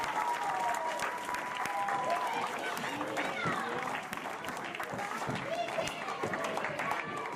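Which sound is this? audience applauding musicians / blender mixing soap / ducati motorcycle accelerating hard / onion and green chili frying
audience applauding musicians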